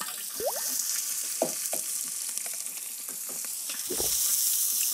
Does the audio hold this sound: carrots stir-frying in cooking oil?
yes